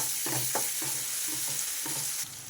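Ginger garlic paste frying in a pan for a mutton tilli curry, a steady close sizzle punctuated by about six rhythmic stirring scrapes, no one speaking.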